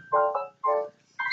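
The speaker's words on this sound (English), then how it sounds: "Sorry for the phone." A phone rings indoors with three bursts of a bright, tonal electronic melody separated by short silences, loud and close, with the last burst rising higher in pitch.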